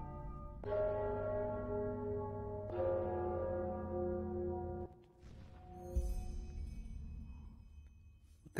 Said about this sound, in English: I didn't even listen to the bell!